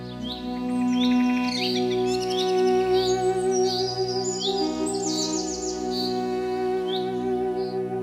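A small bird chirps in quick repeated bursts of bright, high tweets over sustained background music.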